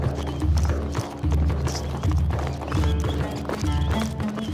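A horse's hooves clop in a steady, rhythmic gait close by while the animal whinnies over the beat, loud and continuous with no talking.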